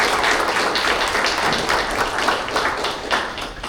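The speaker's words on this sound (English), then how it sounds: "We'll give a big round of applause to our City Council." A crowd at a community event for seniors in Upland claps steadily in sustained applause for the City Council, a dense wash of many hands that fades slightly toward the end.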